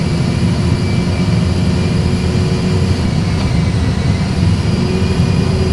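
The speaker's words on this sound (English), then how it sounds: "Takeoff thrust. Takeoff thrust set." Airbus A320 jet engines spooling at takeoff thrust, heard from the cockpit as a loud, steady, continuous roar dense in low rumble with a faint high whine, unbroken for the whole stretch.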